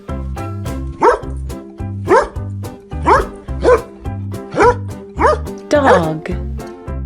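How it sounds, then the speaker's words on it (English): A dog barks six times at a steady rhythm, loud and close, over a looping children's song backing track of farm animal sounds. "Dog."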